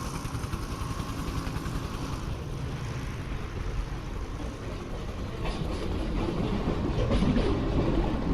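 Train station ambience built from 195 sound sources: a continuous low rumble of rail traffic and engines with a rising rolling clatter, steady and fairly loud, with no distinct voices.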